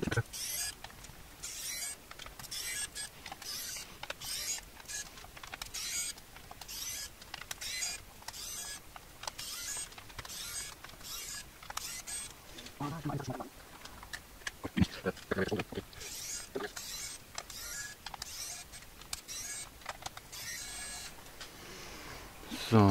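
Electric screwdriver with a planetary gearbox backing screws out of a Commodore C64-C keyboard, whirring in repeated short bursts with clicks and pauses between them, fairly close, over a long stretch.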